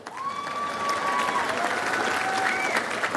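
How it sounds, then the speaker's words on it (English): Crowd applause at the Queensborough Community College 2010 commencement, steady and sustained throughout, with a few faint tonal sounds above the clapping. "You can applaud that too."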